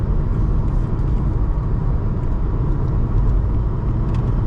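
A rotary-engine car drives through a run of tight corners, giving a loud, steady, close engine rumble with road noise and no change in pitch.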